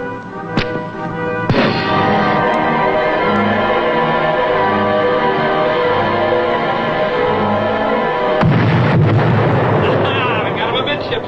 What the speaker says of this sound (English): First torpedo hit a tanker amidships.